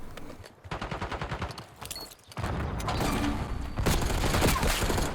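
Rapid automatic gunfire in Black Ops 6 multiplayer: a burst of quick rhythmic shots, a brief lull, then sustained dense firing that carries on loudly to the end, with no talking.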